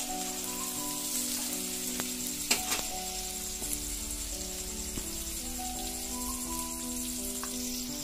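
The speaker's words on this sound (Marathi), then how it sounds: "आता त्यामध्ये आपण कारले परतून घ्यायचे आहेत।" Masala-stuffed bitter gourd (karela) sautéing in a pan with leftover spice mix, a continuous bright sizzle with occasional spoon taps and scrapes, close and fairly loud, with no talking.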